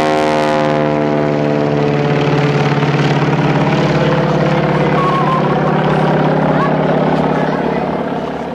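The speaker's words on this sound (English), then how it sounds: "a Piper Cub, a U.S. observation light plane from World War II, flew together with the Broussard, a post-war French observation aircraft powered by a Pratt & Whitney radial engine." A World War II Piper Cub light observation plane and a post-war French Broussard with a Pratt & Whitney radial engine flying together, a loud continuous droning engine hum with strong steady harmonics, near and sustained throughout.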